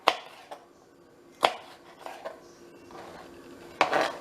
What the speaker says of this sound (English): I'm just chopping it on up and finna add it to the pot